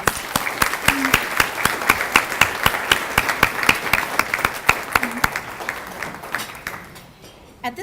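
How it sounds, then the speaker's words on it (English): Applause at a distinguished alumni awards ceremony, with sparse, distinct claps from a modest audience pulsing steadily before tapering off near the end; no one speaks over it. "Please join me in giving them a round of applause"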